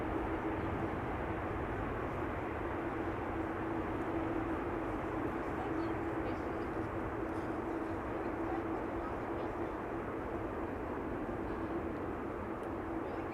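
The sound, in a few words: airplane landing at Amsterdam Schiphol Airport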